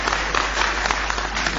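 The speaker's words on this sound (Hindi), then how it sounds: "जोरदार ताली बजा दीजिए" Audience applause at a live poetry recitation, a steady dense clapping wash held throughout at moderate loudness, with no speech over it.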